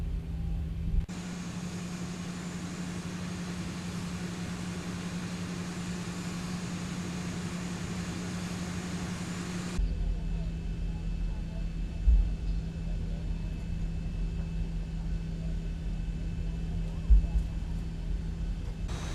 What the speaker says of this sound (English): we're just going to be taxiing onto the holding point of runway 24